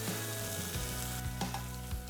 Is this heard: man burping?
no